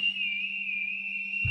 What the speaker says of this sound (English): We Rockies can talk by whistling.